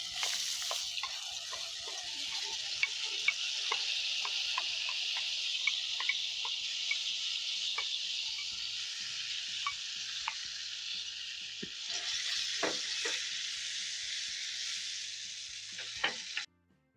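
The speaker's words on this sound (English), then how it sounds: "So I'm going to drain off the water and add in the pan." Drained soaked rice and garlic sizzling steadily in a hot pan, a loud continuous frying hiss with scattered crackles and pops and a brief stir partway through, no talking.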